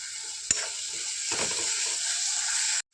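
Ginger garlic paste hitting hot oil in a pan while chickpeas are being cooked, a close, steady hiss and crackle of frying with a sharp clink at the start and a short stirring scrape partway through.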